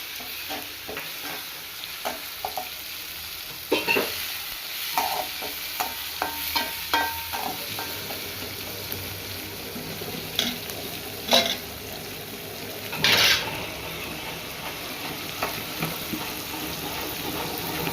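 Chopped onion and tomato cooking in a pan, salted, with a soft continuous sizzle while a utensil repeatedly scrapes and stirs in clustered bursts, then a couple of sharper knocks later; no talking.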